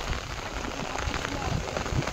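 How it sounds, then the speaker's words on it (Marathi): Heavy rain pours steadily onto farm fields in Konkan at the start of the planting season, a dense, continuous close hiss of drops with no break across the clip. "आणि पाऊस पण जोरात चालू आहे."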